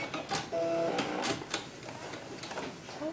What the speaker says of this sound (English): I'm going to sew right up to that pin and do a couple back spaces